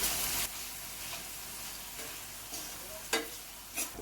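Onions and tomatoes for egg bhurji fry in a pan with a steady close sizzle, broken by a few sharp stirring scrapes of a spatula.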